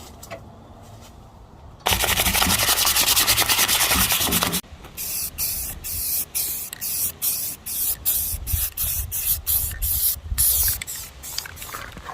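Aerosol spray paint applied in yellow to a tractor seat, one long close hiss followed by a string of short bursts with brief gaps between them.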